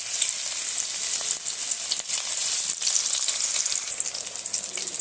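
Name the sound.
rui fish pieces frying in hot oil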